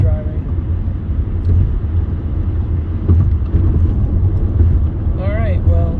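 Interior of a car cruising on the interstate between Philadelphia and Washington, DC, a loud continuous road and engine rumble with steady tire noise throughout and a brief higher whine near the end.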